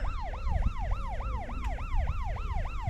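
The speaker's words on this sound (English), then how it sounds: "Bloody hell, there's a police car coming up here." A police car siren wails up a lane in a steady, fast, repeating rising-and-falling cycle, loud and close over a low rumble of road noise.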